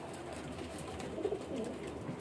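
Ferozpuri pigeons coo softly in a breeder's loft, low murmuring coos rising briefly in the middle over faint background hiss, with no talk.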